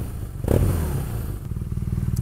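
Low, throbbing boxer engine of a BMW R nineT motorcycle idling with an uneven, chunky pulse, preceded by a brief clatter and thump nearby.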